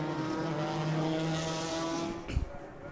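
Vintage B-Sedan race cars at WeatherTech Raceway Laguna Seca hold a loud, steady engine drone, then a sharp thump and rumble near the end as the sound shifts.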